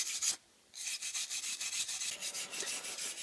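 An aluminum welding brush scrubs an aluminum baseplate in quick, regular strokes, a close, steady raspy rubbing that pauses once briefly, then continues rhythmically.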